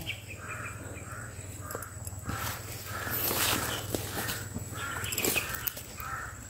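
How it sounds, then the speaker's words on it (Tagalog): Outdoors, an agitated crow gives a steady series of harsh caws at a regular rhythm, moderately close, over a low background hum and faint rustling steps. "Galit na galit yung uwak."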